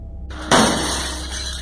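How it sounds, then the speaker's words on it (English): A shop's storefront glass window shatters when struck by a stone: a sudden loud crash, followed by a bright, ringing spray of fragments that slowly fades. "A loud noise of glass shattering came from the storefront window."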